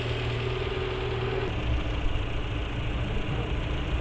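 A Dacia car engine idles steadily, a low continuous rumble with a faint rhythmic knock, heard up close with no talking, on a car with a gearbox noise.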